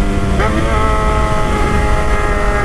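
Engine of an old Honda Titan motorcycle running steadily close by, a continuous loud hum filling the whole stretch with no talk over it.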